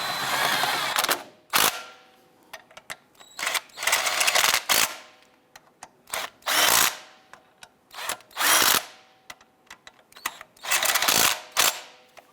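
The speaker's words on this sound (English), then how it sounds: "Now let's go ahead and snug down those bolts on that mount." A power tool snugs down engine mount bolts on a 2008-2013 Nissan Rogue, firing in repeated short bursts of about a second each, close and fairly loud, with brief gaps between them.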